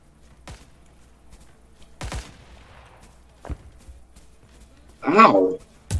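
Sharp, isolated gunshots in a Vietnam War shooter game, four or five separate cracks spaced a second or more apart over near-silence, with a short burst of voice partway through.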